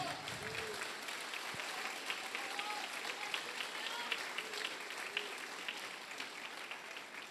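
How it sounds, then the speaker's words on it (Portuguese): A church congregation applauds during a sermon, a steady, fairly distant wash of clapping that holds evenly throughout, with faint voices mixed in. "Pode aplaudir."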